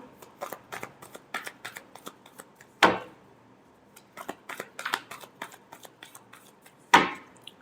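A deck of tarot cards is shuffled by hand: quick, light card flicks come in bursts, and two sharp riffles land about four seconds apart, close and clear.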